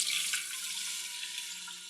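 Apple cider vinegar, a full cup, poured into a saucepan of melting butter for a mop sauce, giving a steady, close liquid splash and gurgle that runs without a break and fades slightly toward the end.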